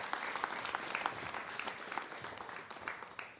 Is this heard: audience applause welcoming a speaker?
yes